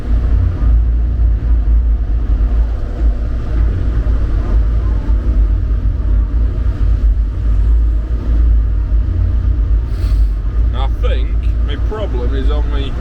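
A JCB 131 tracked excavator runs and slews with an oil leak, giving a loud, low, steady engine rumble close by, while someone talks over it.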